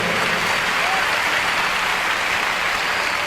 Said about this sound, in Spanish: Un aplauso al Señor por las grandes maravillas que hace.